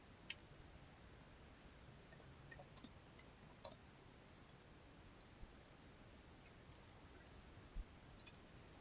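Keyboard keys pressed during a command-line session, giving light, sharp clicks scattered unevenly over a quiet background, with a few quick double taps close to the microphone.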